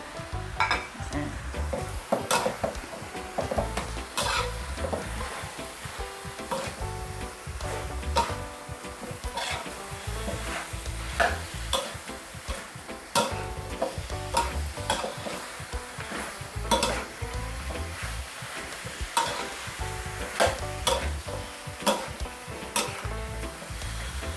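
Cucumber, wood ear mushroom and bell pepper stir-fried in a pan with chicken for a sweet and sour dish, constant sizzling under repeated scraping and clinking of a utensil against the pan.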